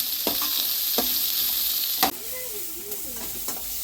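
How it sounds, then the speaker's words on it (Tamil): Onions and green chillies fry with fennel seeds in a pan over a village cooking fire, giving a constant loud sizzle broken by sharp spatula clinks and scrapes as the mix is stirred. "சோம்பு நல்லா புரிஞ்சிருச்சு இது கூட வெங்காயம் பச்சை மிளகாய் ஒரு வதக்க வதக்கு வதக்கு"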